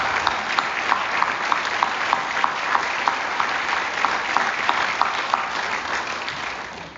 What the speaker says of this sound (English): let's give all our award winners one more round of applause